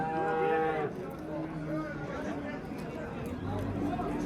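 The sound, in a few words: cattle mooing at livestock market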